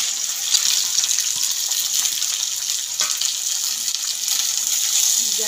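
Okra (bhindi) frying in well-heated oil over a high gas flame, giving a steady, dense sizzle and hiss that holds at an even level throughout, close up and with no talking over it.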